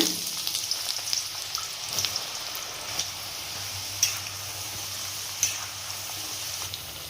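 Bitter gourd pieces deep fry in hot oil with a low, steady sizzling hiss, punctuated every second or so by faint sharp clicks and small pops.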